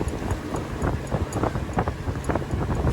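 Wind buffets a damaged sail on a sailboat at sea, a steady rushing flutter with irregular flapping pulses and gusty microphone noise throughout.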